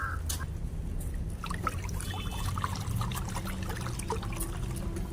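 Water trickles and pours softly and steadily for a horse to drink, against a low outdoor background hum, with no voices.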